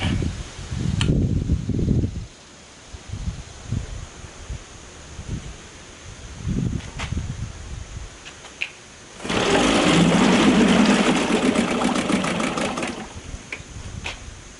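A 1967 Evinrude 3HP outboard boat motor, freshly carb-cleaned and rebuilt, gets several short rasping pull-start tugs, then catches into a loud, high, buzzing run for about five seconds, close up and without talk.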